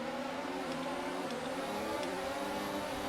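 F1 car engines in a racing video game roar together at the race start, a steady high whining drone from the field of cars accelerating away, constant and moderately loud with no one talking.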